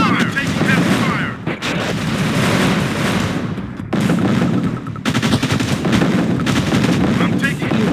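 Heavy gunfire and artillery from a Command & Conquer: Tiberian Sun skirmish between militia and Forgotten forces, loud and continuous with rapid machine-gun bursts and booming shells that pause briefly and then resume.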